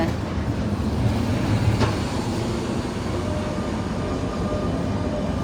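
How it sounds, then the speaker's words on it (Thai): A tram rumbles past with a steady, dense roar of wheels on rails, close and continuous throughout, with no clear voices above it. "รถรางรถราง"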